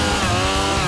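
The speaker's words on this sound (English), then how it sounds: "One of the biggest guys gets his chainsaw out." A chainsaw cuts down a tree to clear room for a new house, a loud close snarling engine drone that holds steady through the short moment.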